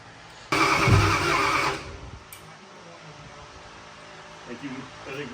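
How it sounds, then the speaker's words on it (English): An old engine in a Dodge Dart held together with duct tape starts with a sudden loud roar that lasts about a second before dropping back to a low, quieter running sound. "Christy, and Dylan, we're just about ready to start it up with the old engine"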